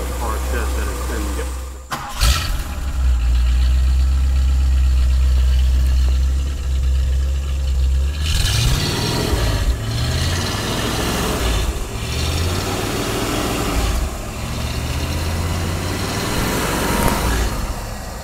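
A 1962 Ford Thunderbird Sports Roadster engine starts and settles into a smooth, quiet low idle nearby, with someone talking over it throughout.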